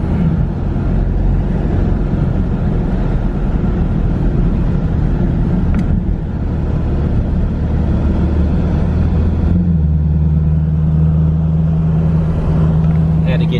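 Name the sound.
supercharged Dodge Challenger driving on the road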